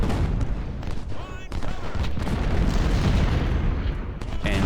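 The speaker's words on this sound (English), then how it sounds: "let my artillery do their thing" Artillery fire in an American Civil War strategy game mod, a steady barrage of booming cannon shots that rolls continuously at high volume, with dense battle noise layered throughout and no speech.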